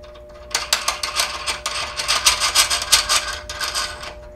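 Large lock knob being screwed onto the shaft of an Orion SkyView Pro equatorial telescope mount, a close, dry ratcheting rasp in quick repeated strokes lasting several seconds.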